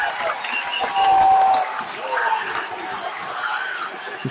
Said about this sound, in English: This crowd has erupted.